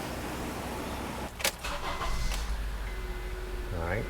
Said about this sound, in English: All right, engine is running.